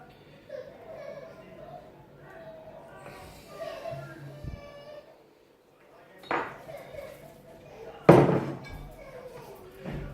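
A ceramic terrine dish of chicken liver pâté with green peppercorns is knocked down on a kitchen counter, producing a few sharp, loud thuds amid ongoing talk and faint kitchen clatter.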